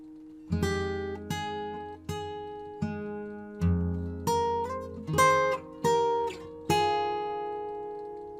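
Fingerstyle acoustic guitar plays a bar of a piece alone: about ten plucked chords and notes in a steady, gentle rhythm, each ringing and decaying, close and clear with no talking.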